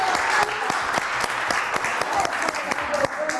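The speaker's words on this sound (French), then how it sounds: "On l'applaudit très très fort, Fergie." An audience in a French entertainment news show gives a round of applause to welcome a guest, with sharp individual claps over the crowd and some voices underneath.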